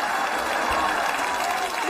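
Neighbours applaud at a home comedy-sketch family performance, a steady, fairly loud wash of clapping lasting throughout, with a hint of crowd noise mixed in.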